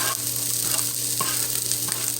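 Potatoes frying in a tilted pan of grease while being pushed up toward the top, giving a steady close sizzle with a few soft scraping and stirring knocks.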